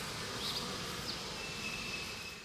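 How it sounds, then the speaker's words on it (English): Bees buzzing around a farm vegetable garden among cucumber plants, a faint, steady outdoor hum with brief closer passes, no talking. "Even the bees seem to be doing nicely."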